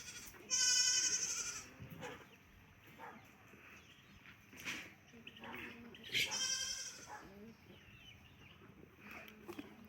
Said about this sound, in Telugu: అన్నిటికంటే ఆనందకరమైన జీవులు ఏంటంటే ఆ మేకలు అనమాట.